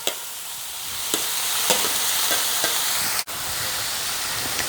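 Mustard seeds, onion, green chilli and tomato fry in hot oil with a steady, close sizzle and hiss, broken by occasional sharp pops and scrapes of stirring throughout.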